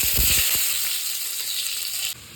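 Whole spices fry in hot oil for chicken pulao, giving a loud, steady sizzle with a few clattering stirs at the start; the hiss drops abruptly just before the end.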